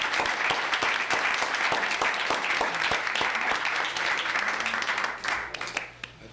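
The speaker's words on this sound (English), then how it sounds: "Let's give them all a round of applause" Applause from a city council meeting audience: distinct individual claps in a dense, steady round, thinning out and fading near the end with a few scattered claps.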